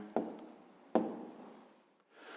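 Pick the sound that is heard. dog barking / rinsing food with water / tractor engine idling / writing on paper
writing on paper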